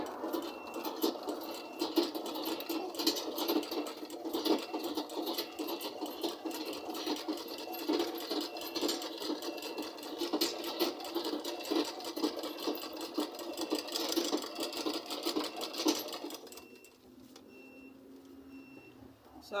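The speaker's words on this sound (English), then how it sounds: "stitching it down like this" A sewing machine runs in a fast, steady stitching rhythm while sewing down a turban cap with rose embellishments, close and continuous for about seventeen seconds, then stops into near quiet.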